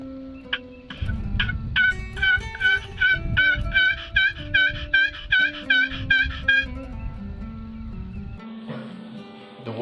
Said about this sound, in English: I'm sitting right in the middle of these 2 birds, gobbling back and forth at each other